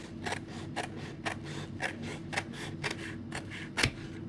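Scissors cut a printed fabric label backed with paper, a series of crisp, evenly spaced snips about every half second, close and quiet, with one sharper snip near the end.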